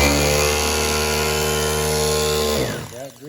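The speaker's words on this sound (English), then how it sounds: "that drill moves forward." A power drill runs at a steady high whine, loud and close, holding an even pitch before winding down abruptly near the end.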